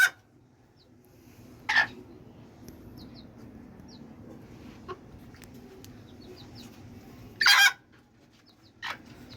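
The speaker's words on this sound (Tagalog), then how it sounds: "So ito guys yung ating simple manukan guys." Hens give sparse clucks in a simple backyard poultry coop over a quiet, low background, while two short, loud crowing calls from a rooster stand out, with smaller bird sounds scattered between them.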